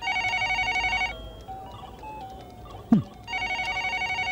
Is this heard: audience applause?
no